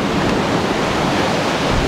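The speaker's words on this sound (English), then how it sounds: "There comes a wave now, rolling, rolling, rolling, right there." Ocean surf rolling in on the shore at Cape Vidal, a steady broadband wash of breaking waves heard close and loud for the whole stretch, with wind hiss and no talking.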